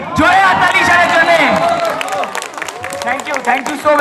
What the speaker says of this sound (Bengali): জোরে হাততালি ঈশানের জন্য